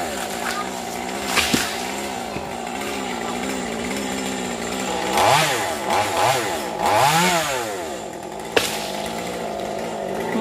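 A nearby chainsaw drones and revs repeatedly as it cuts through mangrove apple branches near power lines, rising and falling in bursts, with a few sharp cracks.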